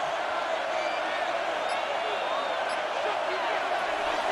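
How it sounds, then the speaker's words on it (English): A broad wash of crowd noise fills a football stadium during an NFL game between the Kansas City Chiefs and New York Giants as the home crowd roars on third down. The roar is steady and sustained, with commentary voices over it. "This crowd into it now as we get to 3rd down."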